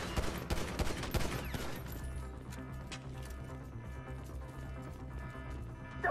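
Gunfire in the Grand Theft Auto 5 video game during a facility shootout, a rapid burst of sharp shots up front that thins to sporadic cracks over busy game sound and music.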